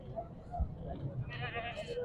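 Goats bleat at Sanghar Bakra Mandi, a goat market, where a near bleat rises over a steady crowd murmur with people talking throughout.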